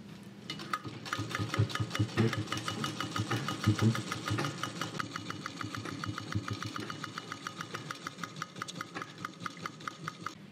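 A sewing machine runs steadily, stitching a folded patch onto a Kalash-style saree, its rapid needle clatter repeating in an even mechanical rhythm that eases slightly toward the end.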